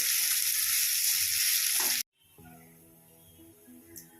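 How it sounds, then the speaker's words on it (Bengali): Onion and ginger paste fries in a pan toward light brown, giving a loud, close, hissing sizzle for about two seconds. It then cuts off abruptly to a quiet background with faint clinks. "এইভাবে ভেজে নিতে হবে, হালকা ব্রাউন কালারের আসা পর্যন্ত ভাজতে হবে"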